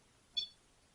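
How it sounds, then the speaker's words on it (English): One short, high electronic beep, faint and brief, in an otherwise quiet moment. "Single beep."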